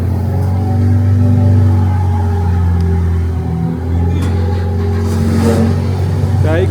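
A BMW 540 engine runs loudly and steadily with a deep low drone, rising slightly in a rev partway through, while people talk over it nearby.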